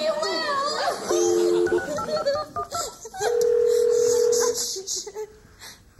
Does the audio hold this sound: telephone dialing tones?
yes